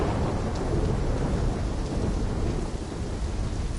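Thunderstorm with heavy rain in the Call of Duty Black Ops 3 video game, a dense, steady roar of rainfall with low rumbling thunder underneath, continuous and fairly loud, without speech.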